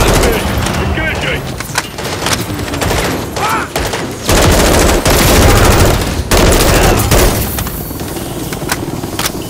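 Heavy automatic gunfire and explosions in the Call of Duty Modern Warfare III campaign reactor mission, dense sustained bursts with booms during a firefight on a helicopter, loud throughout.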